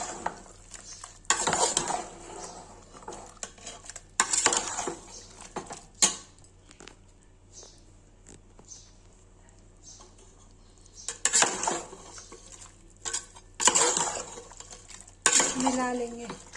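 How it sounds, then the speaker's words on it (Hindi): A spoon stirs tomatoes into a chicken curry in a pan on a home stove. It makes several bursts of scraping and clinking at irregular intervals, with a quiet hum and faint sizzle between them and no talking. "टमाटर डाल दिया। अब इसको मिला लेंगे।"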